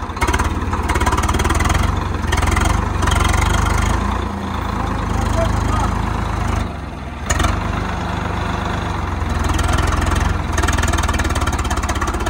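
A Swaraj 855 tractor engine chugs and idles loudly up close, a deep steady throb that briefly dips and then revs again, with people talking over it.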